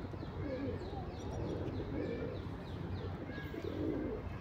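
A pigeon coos softly in a London park, low repeated cooing phrases under faint ambient noise and distant chirps.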